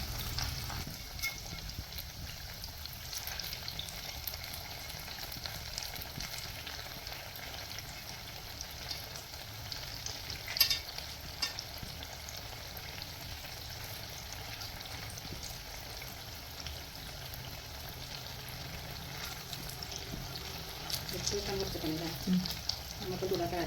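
Kannur appam, a white rice-batter appam, frying in a pan, a low steady sizzle with light bubbling and crackle running throughout, fairly quiet and continuous.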